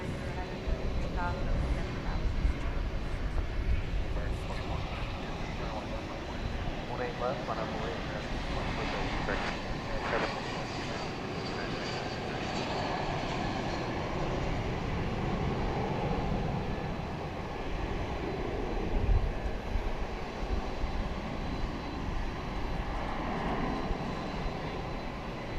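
An American Airlines airliner arriving at night at Dallas/Fort Worth from Los Angeles gives a sustained jet engine rumble at moderate level, with people talking over it.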